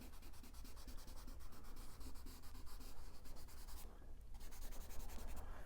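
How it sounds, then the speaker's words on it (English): A kneaded eraser rubs pencil sketch lines off paper while a cartoon Dalmatian is being drawn, a steady, close scrubbing with fast back-and-forth strokes and one brief pause. "I just want to erase all these extra lines that I've got in there that I don't need"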